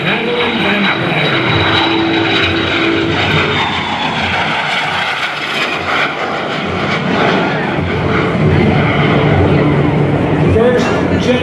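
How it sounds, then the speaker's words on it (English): A de Havilland Vampire, a first-generation jet fighter, flying at an airshow in West Virginia, giving a loud continuous engine roar with a faint high whine, while an announcer talks over it. "First generation jet fighter."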